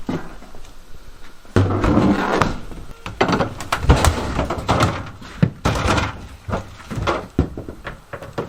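Old kitchen cabinet doors come off a 1970s mobile home during demolition, giving a run of loud wooden thunks, knocks and rattles at close range, with brief quiet gaps between them.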